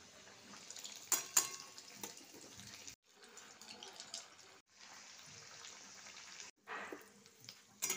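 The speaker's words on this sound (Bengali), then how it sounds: "এবার এটাকে আমি ভেজে নিচ্ছি।" Pea-and-potato stuffed kochuri frying in oil in a kadai make a faint, close, continuous hissing sizzle broken by brief gaps and a few sharper spatters. No voices are heard.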